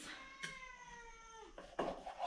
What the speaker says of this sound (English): Kitty, you want some meat?